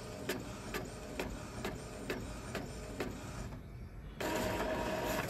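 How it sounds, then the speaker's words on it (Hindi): An Epson EcoTank L3252 ink tank printer prints on plain paper, giving a steady mechanical whir with regular ticking pulses from the moving print head, a short dip near the end, then a louder feed surge. "हमारा नॉर्मल पेपर पे प्रिंट निकल गया"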